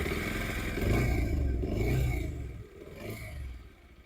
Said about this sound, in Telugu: ఇంజిన్ సౌండ్ అయితే సెల్ఫ్ కొట్టినప్పుడు భలే వస్తుంది.